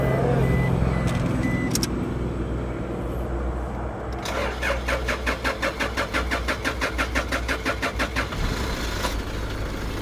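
A faulty Toyota Innova's engine cranks and catches on a roadside of the NLEX expressway, rapid rhythmic churning pulses that settle into a steady running idle, with a short beep early on and faint voices in the background.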